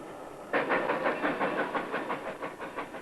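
A train starting up and running: after a half-second lull, a rhythmic chugging and clatter sets in at an even beat with a faint hiss beneath, at moderate volume.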